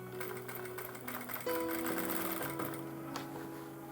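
Sewing machine stitching along a blouse edge, a steady fast mechanical whir running close and alone, with a slight change in pace partway through.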